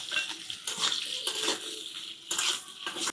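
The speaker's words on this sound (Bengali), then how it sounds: "এরকম নাড়িয়ে নাড়িয়ে ভেজে নিতে হবে, যাতে করে সবজিগুলো হালকা সেদ্ধ হয়ে যায় সঙ্গে সঙ্গে।" Mixed vegetables, including drumsticks and eggplant with salt and turmeric, fry in mustard oil for sambar, a continuous close sizzle rising and falling with sweeping stirs through the pan.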